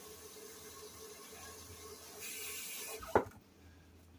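Tap water runs steadily into a pot being rinsed out in a home kitchen, a continuous moderate splashing rush that swells briefly, then a clunk near the end as the flow stops and the sound drops to quiet.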